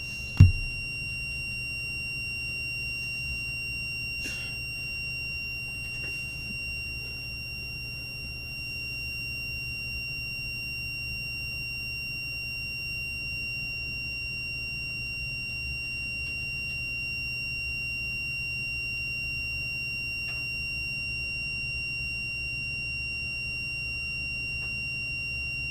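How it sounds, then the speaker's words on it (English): A Siemens FC901 fire alarm panel sounds one long, unbroken electronic beep during a firmware update, a steady high tone holding evenly from start to finish over faint room hum. "It continues with a nice long beep again."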